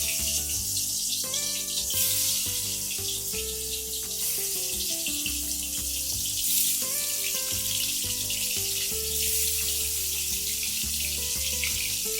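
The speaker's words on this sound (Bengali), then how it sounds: "তেল ভালোভাবে গরম হয়ে গেছে, এবার আমি মাছগুলোকে কড়াতে ছেড়ে দেব।" Pieces of bhetki fish sizzle in hot oil in a wok, a steady hiss and crackle heard up close, with no voices.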